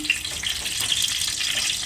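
Pangas and tengra fish wrapped in bottle gourd leaves fry in white oil on a hot tawa over a gas flame, giving a steady close hiss and crackle with no talk.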